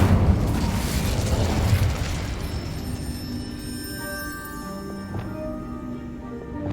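Incendio fire spell cast in Hogwarts Legacy, a loud whooshing burst of flame that fades into ringing, shimmering magical tones with a couple of soft pops.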